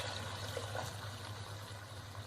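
Water poured into a pot of chana fried in ghee, a continuous soft trickling splash under faint kitchen background noise.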